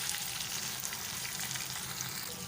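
Tomatoes fry in a pan with an even, steady sizzle that holds its level throughout, a brief close-up hiss with faint spoon stirring underneath and no speech.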